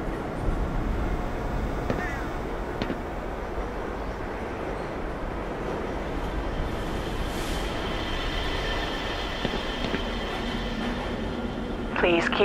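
The Black Mesa transit system train in the video game Black Mesa Xen rumbles along steadily with rolling wheel noise and occasional faint metallic squeals, a continuous mechanical ride through the facility.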